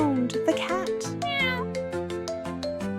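A cat meows repeatedly, with several short close meows and a longer rising call, over light background music.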